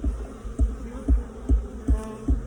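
Bees buzzing in an open hive split, a steady low hum with soft regular thuds about every half second, no voices.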